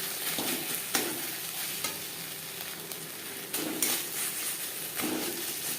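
Tilapia fish curry cooking in a pan over a low to medium flame, a steady dense sizzle and bubbling with a few soft stir strokes rising periodically, close and even, no voices.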